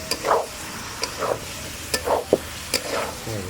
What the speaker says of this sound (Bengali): এবার সেদ্ধ করে রাখা এই যে চিকেনটা দিয়ে দিলাম, দিয়ে এবার ভালো করে কষিয়ে নেব।